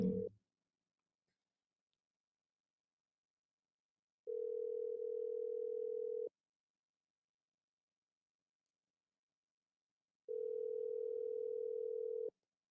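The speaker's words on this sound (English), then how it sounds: "Brian Norman ain't answering the phone" Ringback tone of an outgoing phone call that goes unanswered: two long steady rings about two seconds each, separated by silence, heard clearly through the line with no voices.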